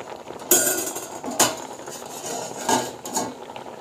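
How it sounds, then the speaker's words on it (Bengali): Corn is stirred in a metal cooking pot: a spoon scrapes and clinks against the pot in several sharp knocks, close and loud, with no talking. "নেড়ে দিলাম অল্প।"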